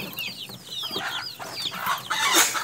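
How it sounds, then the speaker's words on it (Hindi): A hen clucks and chatters in short bursts, with other birds squawking nearby in a busy, noisy coop. "अच्छा ये मुर्गी है"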